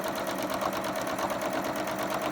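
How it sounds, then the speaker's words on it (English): A sewing machine runs steadily as it stitches fabric for coasters, a continuous close mechanical whir with a fast even rhythm and no talking. "I'm ready to sew again."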